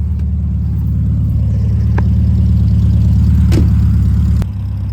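A 1972 Volkswagen Beetle engine running close by, a steady throbbing air-cooled rumble at a constant idle with a few faint clicks, loud and alone without talk.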